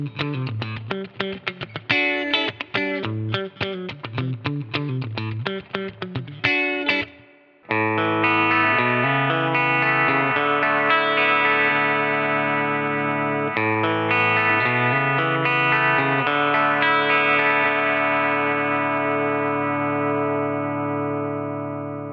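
An electric guitar played through a Cali76 FET compressor pedal, 1176 style: a run of quick, punchy plucked notes and chords, then a brief gap and long, evenly sustained ringing chords, close and steady in level.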